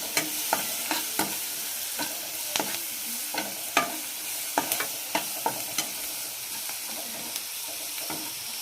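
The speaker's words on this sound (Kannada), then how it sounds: "ಇದನ್ನು ಕೂಡ ಒಂದು 30 ಸೆಕೆಂಡ್ ಫ್ರೈ ಮಾಡಿ ಸಾಕು." Tomato fries in a pan with turmeric, coriander, chilli and cumin powder for an egg curry, a steady soft sizzle broken by repeated sharp scrapes and clacks of stirring, close and with no talking.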